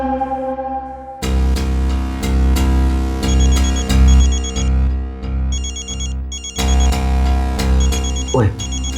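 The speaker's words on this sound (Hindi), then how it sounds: "आपका फोन आ रहा है।" A telephone rings with a loud, continuous electronic melody that plays in repeating phrases and fills the whole stretch, with no voices over it.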